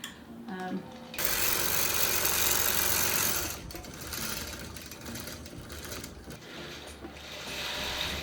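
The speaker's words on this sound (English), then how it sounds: "I've done 3 rows with 1 bobbin, so this is quilting pretty quickly" A longarm quilting machine stitches in loud, steady bursts of rapid mechanical chatter, with a brief quieter start before the motor runs up; the stitching eases slightly midway and then continues close by.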